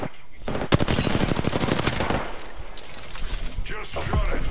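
Gunfire in the battle royale game Apex Legends, a fast string of sharp automatic shots up close, then scattered bursts, with players talking over the action.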